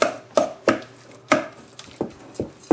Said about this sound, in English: Mash all the yolks up